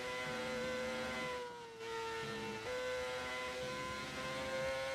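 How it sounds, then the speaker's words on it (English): Rebel race car engine in an F1 racing video game, a steady high-pitched whine holding pitch with a brief dip and a quick shift step partway through, running alone at moderate volume. "This is the Rebel engine."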